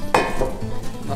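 A knife chops an orange on a board in a kitchen, landing a single sharp knock up close, followed by a faint clatter.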